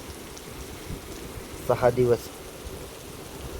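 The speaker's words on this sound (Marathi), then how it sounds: "एवढ्या 10-15 दिवसात खूप खतरनाक पाऊस पडतोय, बघू शकताय." Heavy rain pours during a hailstorm in Maharashtra, a steady, fairly faint hiss running through the whole stretch, with a brief burst of speech in the middle.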